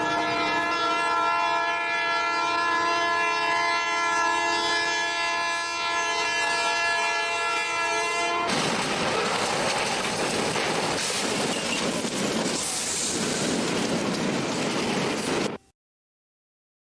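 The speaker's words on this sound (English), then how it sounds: "the impact was deafening as the train slammed into the truck with unimaginable force" A high-speed train blares a long, loud, steady horn before an abrupt shift into a roaring, crashing burst of noise as it slams into a truck on the tracks, the din cutting off suddenly at the end.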